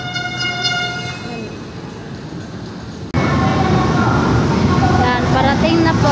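An LRT train pulls into Baclaran station, a horn tone sounding first, then a loud, sudden roar of wheels and rail noise as it arrives close by, with a busy platform around it.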